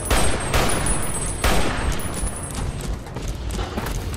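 Gobi Campaign Scout Rifle fire in the video game Fallout: New Vegas, a couple of heavy gunshot blasts over a dense, rumbling battle din, with no voices.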